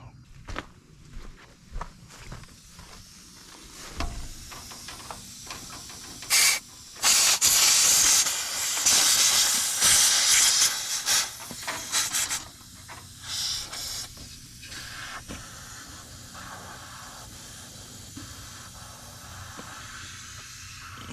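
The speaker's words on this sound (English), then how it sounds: "Coming from holes in the air tanks" Compressed air hissing out of holes in the air tanks of a 1980 extended-hood Peterbilt 359 with a 3408 Cat engine: bursts of loud, sharp hissing swell and fade between quieter stretches, with scuffs and handling noises around them.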